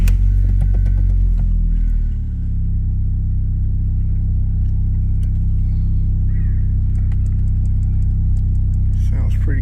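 A first-generation Audi TT Quattro engine rumbles steadily at idle close by, a low continuous drone with a slight dip early on, and no talking over it.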